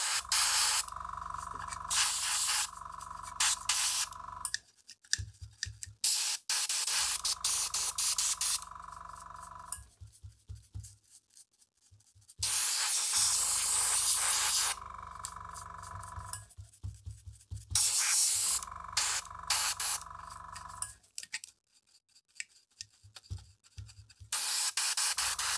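Airbrush compressor spraying during a restoration, a loud broadband hiss in repeated bursts of several seconds each, broken by short silent pauses.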